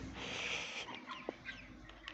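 Young hens clucking faintly in a backyard flock, a few soft short calls over a low hiss and background noise.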